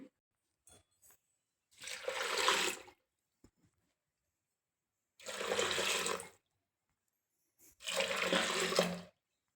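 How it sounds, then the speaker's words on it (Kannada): Water is poured from a cup into rice in a pot, three separate splashing pours of about a second each with quiet gaps and small clinks between them. "ಈ ರೀತಿ 6 ಲೋಟ ನೀರು ಹಾಕ್ತೀನಿ."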